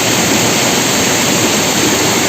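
Waterfall at the Langvoku picnic place in Karbi Anglong, Assam, a loud, dense, unbroken roar of rushing water close by, steady for the whole moment.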